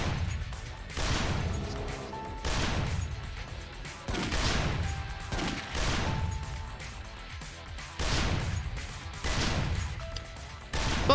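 Heavy anti-materiel rifle fire in Yakuza Dead Souls, a string of loud, booming shots spaced roughly every second or two, each with a sharp crack and a rumbling tail, over a steady bed of game noise.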